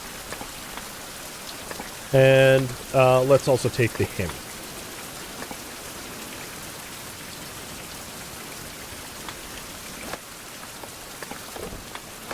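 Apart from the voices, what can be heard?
rain in video game Fountain of Youth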